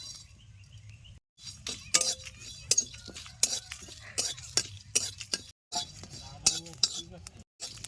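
Cumin, cinnamon pieces and a dried chilli dry-roasting in a kadai, with frequent sharp clinks and scrapes of a metal spoon stirring against the pan in an irregular rhythm, close and fairly loud.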